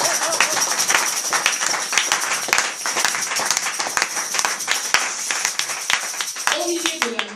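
A church congregation claps together during an evangelical worship service, dense and steady hand-clapping that runs throughout, with voices mixed into the crowd noise.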